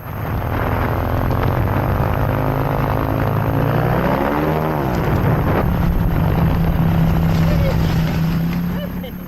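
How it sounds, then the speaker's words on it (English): Ultralight aircraft veering off the runway after landing: a loud, close engine and propeller drone with pitch that sweeps and wavers midway, then steadies, filling the whole stretch. "This ultralight veered off the runway after landing."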